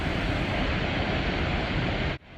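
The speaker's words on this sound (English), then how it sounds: "this is what we've all hiked 11 miles in to see, the majestic Havasu Falls" Havasu Falls pouring into Havasu Creek, a steady, loud broadband rush of falling water that continues unbroken before dropping away abruptly near the end.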